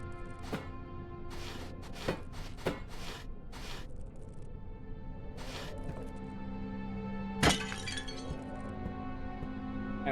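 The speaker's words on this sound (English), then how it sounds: "I also like being a menace and smashing all the vases." Ceramic vases shatter and clink one after another in Amnesia: The Dark Descent, a string of close, crisp breaking crashes with one louder smash late, over a quiet ambient hum.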